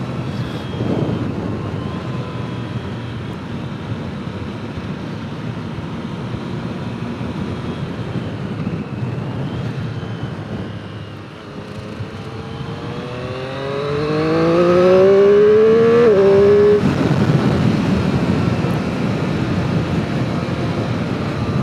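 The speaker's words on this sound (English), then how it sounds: "The induction noise." Induction noise from a 2021 Triumph Street Triple 765 R motorcycle, a loud intake roar that rises sharply as the engine revs up through the gears, with wind rush throughout.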